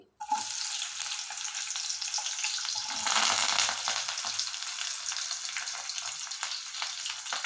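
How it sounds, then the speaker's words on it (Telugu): Onions, green chillies and curry leaves frying in hot oil, a steady close crackling sizzle that starts abruptly and swells briefly midway before settling into continuous spitting. "ఆయిల్ కొంచెం వేడెక్కింది. ఇప్పుడు దీంట్లో ఉల్లిపాయలు, పచ్చిమిరపకాయలు, కరివేపాకు అండి."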